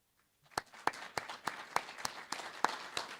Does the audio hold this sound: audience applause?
yes